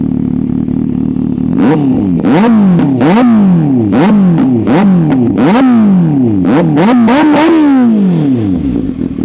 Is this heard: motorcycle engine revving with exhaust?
yes